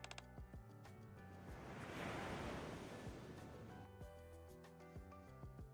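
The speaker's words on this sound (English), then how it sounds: "she can hear the waves clashing" Ocean waves surge and crash in one slow swell, quiet and washy, with soft tonal music playing throughout, from the video game Golden Ship.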